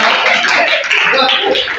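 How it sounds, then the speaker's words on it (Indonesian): A seated audience in a teacher coaching and academic supervision session claps in a brief, continuous burst, the clapping fairly loud and close with a voice mixed in. "Oke, tepuk tangan."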